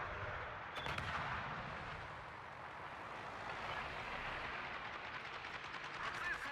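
Naval artillery shells fire in a warship battle video game, making a steady, moderately distant rumble of repeated gun reports and booms that continue at an even level across the whole stretch.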